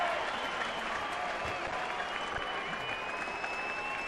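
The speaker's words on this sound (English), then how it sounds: "Nice round of applause for former Giant Nate Sherholtz." Baseball stadium crowd at a Cubs–Giants game clapping steadily for former Giant Nate Schierholtz, a dense, sustained wash of applause from many hands, heard at a distance throughout with no pauses.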